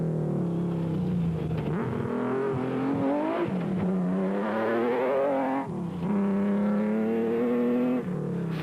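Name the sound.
Nissan race car engine during Toyota 1000 race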